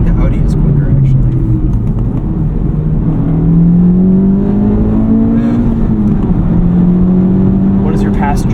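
Modified Honda Civic Type R FL5 accelerating hard at night, a steady engine drone rising in pitch through the gears beneath an almost continuous conversation inside the cabin.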